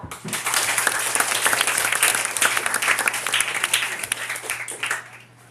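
An audience at a school debate claps to welcome the school principal, who chairs the Board of Judges, with a loud, dense burst of applause that builds quickly, holds for several seconds, then tapers off.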